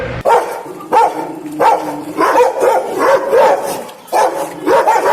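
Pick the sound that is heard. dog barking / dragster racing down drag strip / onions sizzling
dog barking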